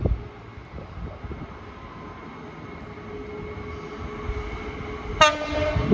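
A freight train on the West Coast Main Line, hauled by locomotive 66002, rumbles steadily past at close range, then gives one loud, sharp horn blast near the end, with no talking.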